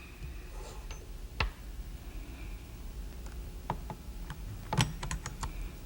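Metal keys are tried in a model doorknob lock, producing a few sharp, close clicks and scrapes spread across a quiet room, with a small cluster of taps near the end.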